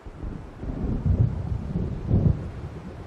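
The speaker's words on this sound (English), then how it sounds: "It seems there's a storm coming." Deep rolling thunder from an approaching storm in the game Alan Wake Remastered, rumbling continuously with two heavier swells, mixed with a light wash of wind and rain and no voices.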